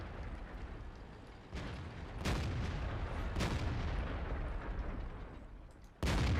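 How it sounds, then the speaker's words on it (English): Tank cannon shots in World of Tanks, fired into the side of a Super Pershing, sound as several loud booms over a rumbling battle bed, with a sharp final blast at the end. "And shot into the side of the Super Pershing."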